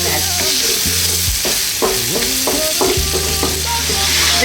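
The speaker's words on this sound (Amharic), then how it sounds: "እሺ ይኸውላችሁ እየተጠበሰ ነው።" Meat frying with onion and garlic in a pan for an Ethiopian firfir dish, a loud steady sizzle close by, broken by scraping stirs of a utensil against the pan.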